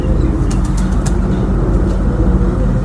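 Pigeons at a Rawalpindi loft, Teddy cross birds, give low, soft cooing calls against a steady rumble of nearby traffic, with no talking.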